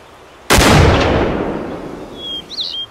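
A hunting rifle fires in the video game Cabela's Big Game Hunter 2012: one sharp, loud shot with a long reverberant tail fading over a couple of seconds, alone without talk.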